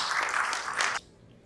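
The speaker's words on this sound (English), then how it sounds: "please welcome Shashank with a big round of applause" An audience at the DevOps Conclave & Awards 2023 applauds to welcome a speaker, a full burst of clapping for about a second that then cuts off abruptly to near silence.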